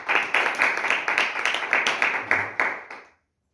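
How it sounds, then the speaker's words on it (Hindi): Enthusiastic applause from a church congregation, a burst of dense, steady clapping that lasts about three seconds and then cuts off abruptly. "बेटी के लिए जोरदार ताली"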